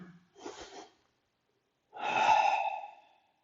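Breaths during a classical Pilates abs, glutes and thighs workout: a short soft breath, a pause, then a longer, louder breathy inhale-like rush, close and alone.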